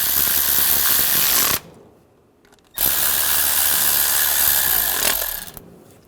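A power tool tightens bolts on the intake manifold of a 2006-2009 Mercedes-Benz E350 with the 3.5L V6, running in two loud whirring bursts of about a second and a half and two and a half seconds, separated by a short quiet pause.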